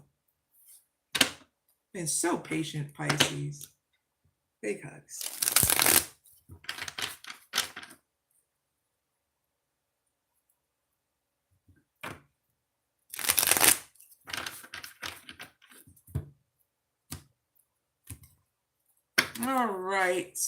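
Oracle cards are shuffled in two bursts of brisk riffling and flicking, close and crisp, separated by a voice talking between them.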